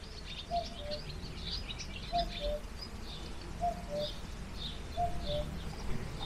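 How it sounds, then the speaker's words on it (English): A distant cuckoo repeats its two-note call four times at steady intervals over a hiss of outdoor background noise. "I've been trying to capture the sound of the cuckoo all week."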